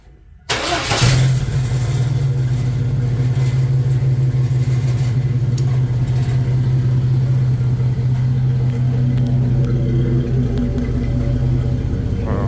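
A Blazer's engine idles steadily and close by, a low rumbling drone with a faint metallic rattle from its exhaust running through it after it catches and settles.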